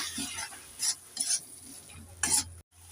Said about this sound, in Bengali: একটু নেড়ে চেড়ে দিয়ে দেব এবার আমি দিয়ে দেব আলাদা করা মটরশুঁটি আর সিমের বীজগুলো একটু নেড়ে চেড়ে দিয়ে দেবো